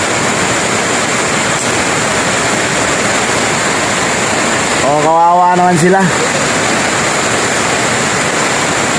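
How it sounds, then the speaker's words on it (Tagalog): Steady, loud wash of heavy rain fills the clip, with a person speaking briefly partway through. "lakas talaga ng ulan talaga mga paps."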